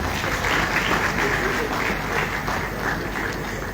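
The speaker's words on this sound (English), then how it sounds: "A round of applause for him, please." A seated audience at a lecture gives a professor a round of applause, dense clapping that stays strong and steady, with some crowd noise mixed in.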